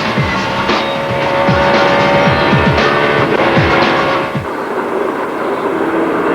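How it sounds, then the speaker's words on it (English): An ARCA race car with a blown engine passes at Pocono, its loud rough engine roar sweeping by with falling pitch, then dropping away into a broad track rumble. "That's Norm Benning's car and a blown engine for the independent runner."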